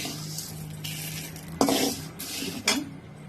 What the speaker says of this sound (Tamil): கடுகு நல்லா பொங்கிடுவாங்க.